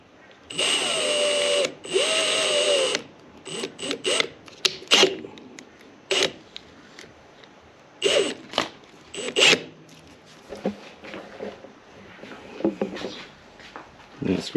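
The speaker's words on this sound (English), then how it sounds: "Grab the good old drill, Milwaukee." A Milwaukee power drill whines in two sustained bursts near the start, then gives several short stop-start runs and clatters while wiring a CAN bus trunk for an automotive dash, fairly loud and close.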